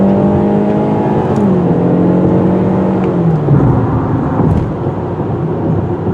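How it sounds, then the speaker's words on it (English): A 2021 Hyundai Elantra with its base engine accelerating: a steady, loud engine drone that rises and falls in pitch as it shifts through gears, with road and wind noise throughout and no talking. "if you get the base engine, you're not going to lay any rubber"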